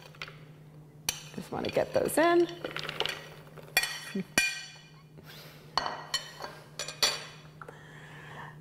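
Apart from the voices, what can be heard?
frozen cranberries added into Cuisinart food processor bowl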